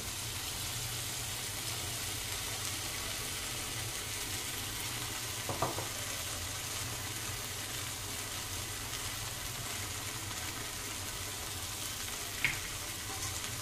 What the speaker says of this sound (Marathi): ही आता छानपैकी यामध्ये मिक्स करायची आहे